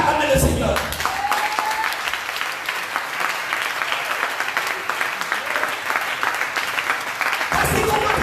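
A church congregation at a Sunday service breaks into sustained applause acclaiming the Lord, a dense, steady clapping that fills the room for about seven seconds before fading at the end.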